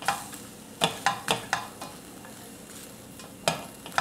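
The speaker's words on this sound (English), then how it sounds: "You place them in the pan. And you just basically stir them." Diced onions are stirred in a pan with vegetable broth and no oil, giving a faint bubbling hiss broken by a few distinct scraping strokes of the spoon.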